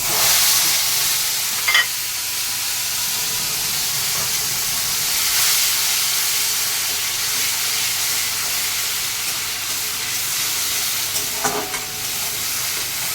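Nigella seeds and tomato paste frying in leftover fish oil, a loud continuous hissing sizzle throughout, broken by a couple of brief clinks from stirring.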